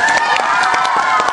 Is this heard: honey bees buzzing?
no